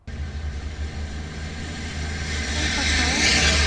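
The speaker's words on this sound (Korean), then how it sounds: "자동차 노이즈가 심한 조건에서 헤이 카카오 이름이 뭐야? 라고 말하고 있습니다." Heavy, continuous car noise rumbles close by and swells louder toward the end, with a voice speaking a command beneath it.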